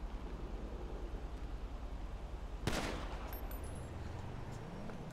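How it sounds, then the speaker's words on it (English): Gunfire in a roleplay video game, a single loud sharp shot cracking out midway over a steady noisy background hum, with faint tonal sounds trailing after. "Who out here shooting?"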